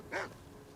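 A dog in a Skyrim game gives a single short, faint yip-like bark over a quiet background hum.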